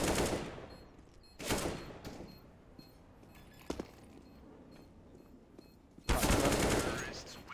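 AK rifle fire in Counter-Strike: GO, several sharp bursts of rapid gunshots, loud and close, separated by quieter stretches with a few faint clicks and a single short shot in between.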